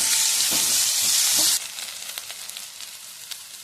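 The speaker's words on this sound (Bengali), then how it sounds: "পেঁয়াজটাকে একটু ভালো করে কষিয়ে নেব।" Onions sautéing in hot oil seasoned with a chili and bay leaf, a loud dense sizzle for about a second and a half with a few stirring scrapes, then dropping to a softer crackling fry with faint ticks.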